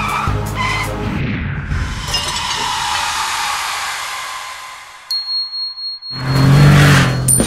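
Cartoon race car tires skid in a long, loud screech that swells and fades, followed by a high electronic tone, a short run of fluttering bursts and a final strong engine-like roar, with no speech over it.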